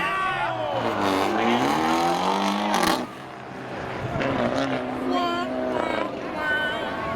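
A powder blue 2022 Hyundai Elantra in Independence Day spectator drag racing at Seekonk Speedway gives loud engine revs that climb in repeated rising sweeps, with a brief drop before revving again. A voice talks over the engine throughout.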